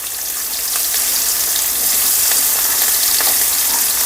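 Green chilies, chana dal and urad dal fry in hot oil in a pan, a steady dense sizzle with crackling pops throughout, close and loud with no talk.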